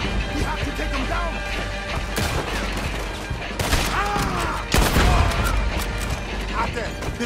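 Heavy gunfire in Red Dead Redemption 2 during a fight against a shooter in a tower, with loud cracking shots and crashing blasts, several sharp bursts standing out over a constant battle din, with voices shouting beneath.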